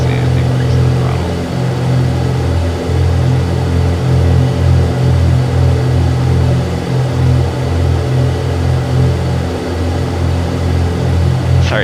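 A simulated aircraft engine in X-Plane 11 throttles up during level-off on an ILS approach into Fresno, a loud, steady droning hum with low rumbling tones that rise and pulse slightly, heard alone without talk.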